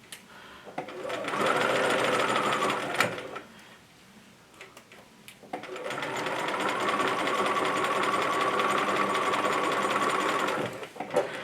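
A sewing machine stitches bias binding onto a small potholder, running steadily for a couple of seconds, pausing briefly, then buzzing again in a longer, even run, close and clear with faint ticking.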